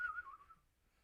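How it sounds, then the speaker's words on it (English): A person whistles a short, falling tune, close and clear for about half a second before it trails off into quiet. "Yeah, I whistled."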